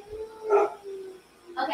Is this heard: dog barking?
yes